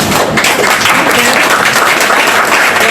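Loud, dense applause from an audience at a talk, a steady wash of many hands clapping close by without a break.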